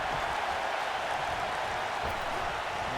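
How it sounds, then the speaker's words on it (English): A dense, steady crowd roar fills a wrestling arena in the WWE 2K19 video game, with competing chants blurred into a continuous wash of noise. "Clashing chants here between Cena and Jericho"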